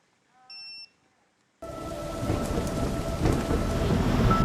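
Heavy rain with thunder during a storm, a steady loud downpour rumbling on surfaces after a brief electronic beep, with no talk.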